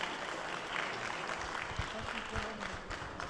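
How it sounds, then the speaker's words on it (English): Audience applause at a youth Ramadan quiz night in a mosque: a steady wash of clapping, fairly faint and distant, with voices mixed in underneath. "Let's give a big round of applause so far for everybody"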